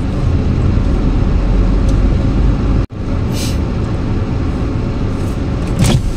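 A loud, close vehicle roars past with a steady broadband rumble, briefly cutting out midway, with a higher whoosh near the end.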